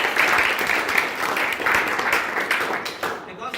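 Class 11 A students applaud at a school in Noida, a steady crowd of clapping that stays loud throughout, with some voices mixed in.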